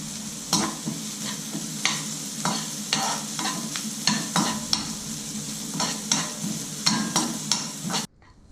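Curry leaves frying in oil with onions for omelette kuzhambu, a steady close sizzle broken by regular scraping stirs of a spatula against the pan, ending abruptly.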